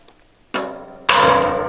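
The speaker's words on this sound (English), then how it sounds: "next step, we're just going to hit that with a center punch" Two sharp metallic strikes of a hammer on a center punch against the steel top of a drum smoker, spaced about half a second apart, the second louder and ringing out.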